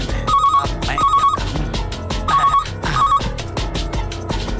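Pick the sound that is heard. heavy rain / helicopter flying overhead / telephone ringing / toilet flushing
telephone ringing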